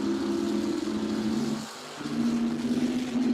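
Top Fuel drag cars at a dragstrip, an Oldsmobile Bubble against the Top Fuel Comet, a Mercury, roar loudly and steadily, dip briefly to near silence, then surge back with a strong engine howl.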